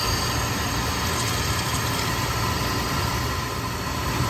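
Residential oil burner running after an oil delivery while fuel is bled from the line, giving a loud, steady broadband roar with a low rumble that fills the whole span without any distinct sputtering bursts.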